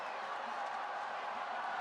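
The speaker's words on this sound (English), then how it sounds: "Crowd enjoying this." Stadium crowd at a high jump event during an athletics meeting in Beijing, a steady wash of cheering and murmur with no distinct claps, continuous and moderately distant throughout.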